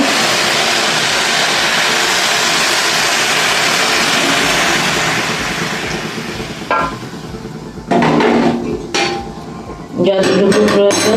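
Warm milk goes into grated carrots cooking in ghee for carrot halwa, making a steady hissing, bubbling rush for several seconds. It settles into quieter sizzling, broken by metal clinks and knocks of a spoon against the pan.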